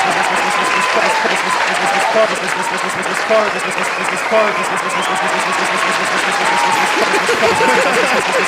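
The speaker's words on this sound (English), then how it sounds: "Applause." A studio audience applauds at the start of a live podcast taping, with dense steady clapping and cheering mixed with crowd noise and voices, loud and close throughout.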